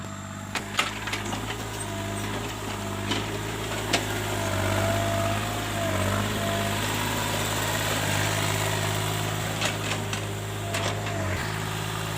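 A TCM 35 mini excavator's diesel engine runs under load while prying up tree roots, with a steady droning hum and a few clanks and knocks from the machine.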